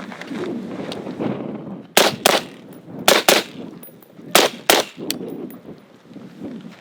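Gunshots fired in pairs during a shoot/no-shoot shooting drill, three sharp close double shots spaced about a second apart, followed by a single quieter crack, over a low background rumble.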